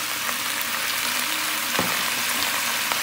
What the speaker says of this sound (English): So basically you just put it in there and start browning it